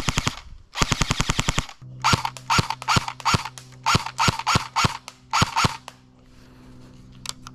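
Airsoft gun, roughly a $300 model, firing rapid shots at close range: a fast burst, then a steady string of about a dozen loud, evenly spaced cracks with a mechanical whir underneath, then a few faint clicks.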